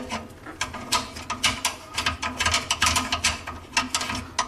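A metal retaining ring on a kitchen garbage disposal is turned counterclockwise to loosen it, giving a close, steady run of scraping, ratcheting clicks that come in quick uneven bursts.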